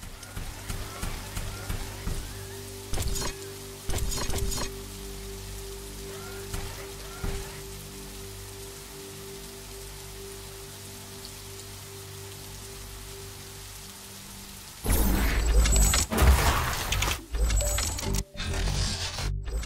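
Steady rain hisses and patters through The Riftbreaker video game, with intermittent bursts of game effects and a louder, denser wash of sound near the end.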